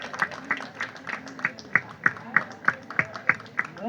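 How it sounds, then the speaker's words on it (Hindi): Audience applause at the final of a singing competition, a moderate crowd clapping in steady, slightly uneven rhythm, close and continuous throughout. "तालियां इनके लिए, बहुत सारी तालियां।"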